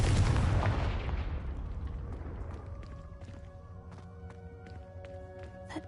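A Confringo blast from Hogwarts Legacy erupts at full force at the start, then decays over several seconds into a fading rumble while scattered small clicks and debris-like ticks linger.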